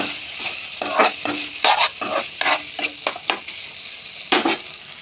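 A spoon scrapes and stirs mixed vegetables with vegetable spice mix in a hot frying pan, giving bursts of sharp metallic scraping and rustling over a low sizzle, with no talk.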